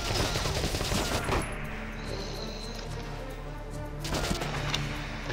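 Battle gunfire in the tactical war game Valkyria Chronicles, a steady rattle of shots over a constant low hum, swelling and easing in loud bursts across the clip.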